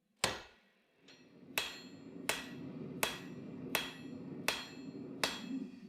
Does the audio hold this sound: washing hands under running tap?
no